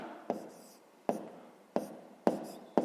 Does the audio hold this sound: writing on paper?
yes